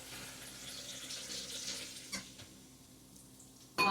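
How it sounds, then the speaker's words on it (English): Tap water, run through a Brita filter, pours into a pot for a Goya chicken bouillon broth, a steady broadband splashing rush that fades out, followed by a brief sharp clink near the end. "I'm going to add 2 cups of water"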